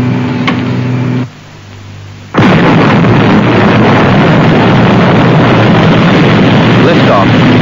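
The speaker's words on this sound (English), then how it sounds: "Stand by for blastoff." Thunderbird 3 rocket blastoff: after a steady hum and a brief near-silent pause, a sudden massive roar erupts and stays loud and continuous, a dense rushing thunder with no talk over it.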